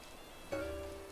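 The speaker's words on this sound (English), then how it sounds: "look at him working out in the rain" Steady rain patter in Animal Crossing: New Horizons starts suddenly halfway through and holds as a soft, even hiss alongside a faint tonal game sound.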